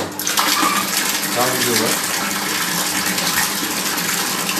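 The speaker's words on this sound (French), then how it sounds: "L'eau passera à travers le robinet" Water gushes steadily from an outdoor frost-free, self-draining faucet, a loud continuous rushing stream. A voice speaks briefly over the flow.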